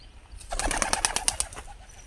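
A pigeon that had been tied to a tree with thread flaps its wings as it takes off and flies away, with a short burst of rapid, close wingbeats lasting about a second.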